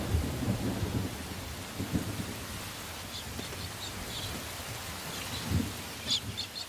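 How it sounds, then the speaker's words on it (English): Thunderstorm with steady heavy rain from a weakening cyclone moving inland over central Australia, with low rumbles of thunder under the constant downpour and faint bird calls. "As the cyclone heads inland, it weakens and turns into a huge rain depression."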